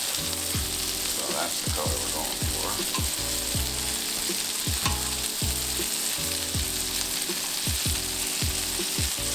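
Smash burgers for mac and cheese smash burgers sizzling loudly on a hot surface, a constant close frying hiss broken by repeated sharp scraping clanks of a spatula as the patties are flipped.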